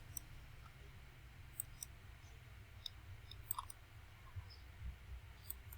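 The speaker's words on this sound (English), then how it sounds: "See, I'm clicking." Computer mouse clicks sound while playing the game Shark Bite, a series of faint, sharp, irregular clicks over a low steady hum.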